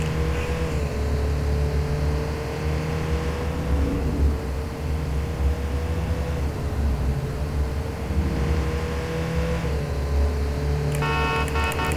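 In the video game Watch Dogs 2, a car horn honks in long sustained blasts over a steady engine drone, loud and close, with a few short breaks between the blasts.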